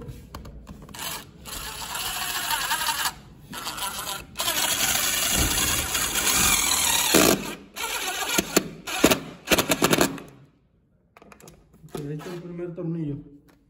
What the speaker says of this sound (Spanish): Ahí, vamos a atornillar.